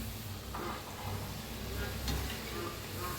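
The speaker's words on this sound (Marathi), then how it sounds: "किती बसतात तेवढे सोडून घ्या, तेलात तळून घ्या." Wheat flour kapnya dough pieces frying in hot oil, a soft continuous sizzle and bubbling at low level, fairly faint and even throughout without talk.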